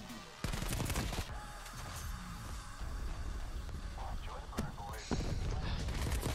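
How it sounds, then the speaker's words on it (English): Rapid bursts of AK74u automatic rifle fire from a Black Ops Cold War multiplayer match, sharp repeated cracks running nearly nonstop and loud throughout, with a player's voice talking over parts of it. "I pulled out the AK74u and I'm cheesing on them"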